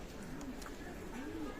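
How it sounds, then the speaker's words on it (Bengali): Pakistani pigeons cooing softly, two low rolling coos about a second apart, faint and somewhat distant over a hum of background noise. "এটা পাকিস্তানি কবুতর বিয়ার্স"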